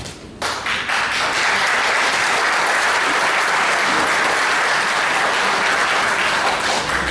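A lecture audience at a college event breaks into applause, a sudden onset of loud, dense clapping that stays full and sustained through the rest of the stretch.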